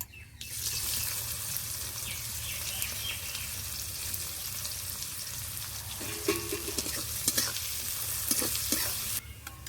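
Chopped onion fries in a pan for rohu fish curry with coriander, a steady close sizzle that lasts throughout, joined later by scraping stirs and light clinks of the spoon.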